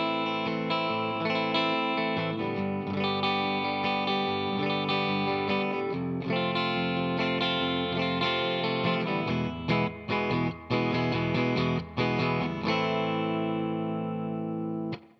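A distorted electric guitar with a chorus effect plays a chord progression stretched out in the style of Del Shannon's Runaway, with long sustained chords that change slowly and ring continuously.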